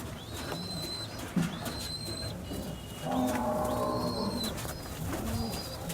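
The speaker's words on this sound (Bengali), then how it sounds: "মানে এত দারুণ দারুণ পায়রা" Pigeons in a loft in Uttar Pradesh give soft, low cooing, with a fuller burst of cooing midway, over faint background noise and a few sharp high chirps.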